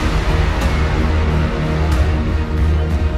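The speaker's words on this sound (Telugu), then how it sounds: "రాతి యుగం వద్దనే వాళ్ళు గట్టిగా చప్పట్లు కొట్టి నిరసనలేజేయండి." A large crowd at a Chandrababu Naidu political rally claps loudly, a dense, steady wall of applause and crowd noise filling the whole stretch at close range, with no speech over it.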